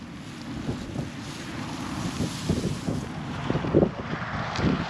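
Wind gusts batter a camera microphone in an open farm field of wheat, rapeseed and winter barley, making a loud, rumbling, uneven buffeting that swells and peaks in bursts.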